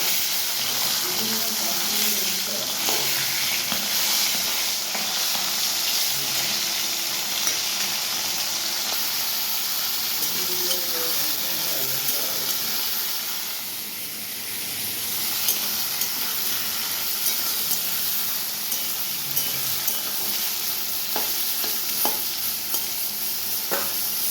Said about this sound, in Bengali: রসুন আর কাঁচা লঙ্কা ফোড়ন দিয়েছি এদিকে আমার সবজি ভাজা কমপ্লিট